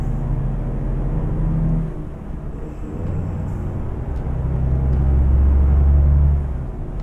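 A Mercedes Travego coach's engine drones and strains in a low, steady rumble while overtaking on a road, swelling louder toward the end with no talking.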